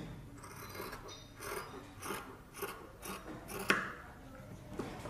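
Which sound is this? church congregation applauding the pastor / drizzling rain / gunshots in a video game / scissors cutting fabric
scissors cutting fabric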